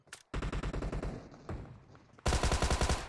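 Rapid automatic gunfire in a shooting video game, loud close bursts of evenly spaced shots, a short gap, then another louder burst.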